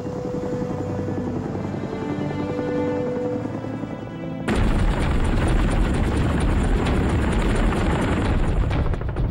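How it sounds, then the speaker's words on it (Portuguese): About 120 American military helicopters of the Vietnam War roar past, starting as a rising whine with rotor thump, then jumping into a loud, dense, continuous rumble of many rotors overhead. "a decolagem de 120 helicópteros americanos"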